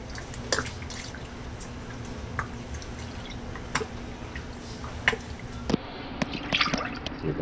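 Key lime juice poured into a mixing bowl for a Florida-style key lime pie, a quiet liquid trickle with soft drips and a few light clicks over faint background hum.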